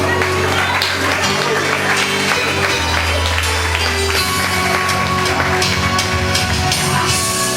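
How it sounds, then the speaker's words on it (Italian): Applause for the birthday girl at a party: a dense, continuous wash of clapping blended with music and crowd noise, loud and unbroken throughout. "Un applauso alla festeggiata!"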